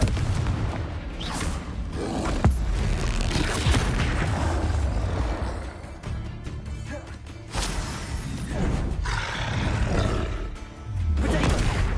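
Confringo blasting spell explosions in Hogwarts Legacy gameplay, loud booming roars and crashes rolling one into another over a dense, continuous game soundscape.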